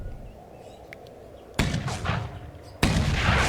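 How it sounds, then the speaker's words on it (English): Artillery smoke rounds fired in the tank game Tank Warfare: Tunisia 1943, heard as two sharp, loud booming reports a little over a second apart, each trailing a rumbling echo over quiet ambience. "that round's a smoke round"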